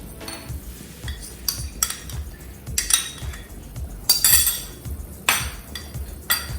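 A spoon stirring cornflour slurry into a pot of mixed vegetable soup, with repeated metallic clinks and scrapes against the pot's side in an irregular rhythm, close and fairly loud, with no talking.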